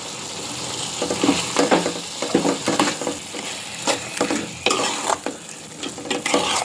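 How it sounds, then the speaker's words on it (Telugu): Chicken curry seasoned with chilli powder and salt is stirred in a pan, giving repeated scraping strokes over a steady close sizzle with no talking. "అడుగంటకుండా కలుపుతూ ఉండాలి."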